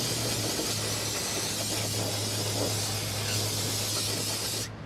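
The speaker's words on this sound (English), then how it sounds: "So I'll get some parts cleaner, just spray it down." A steady, continuous hiss from an aerosol can of parts cleaner sprayed close onto rusty Volkswagen front brake parts, running for about five seconds before cutting off, with a low hum underneath.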